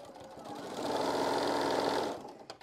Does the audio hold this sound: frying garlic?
no